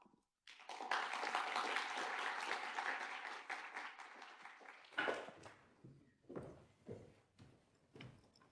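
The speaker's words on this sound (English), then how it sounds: "please join me with warm applause in welcoming Madame Salle" Warm applause from an audience at the opening ceremony of a Geneva forum on East Asia, a dense wash of clapping lasting about four seconds, then scattered, fading claps and a few knocks trailing off.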